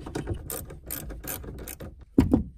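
Ratchet with a 10 mm socket loosening the negative battery terminal on a Chevy Camaro: a close series of quick clicking pawl strokes in short bursts, ending with a firmer clunk.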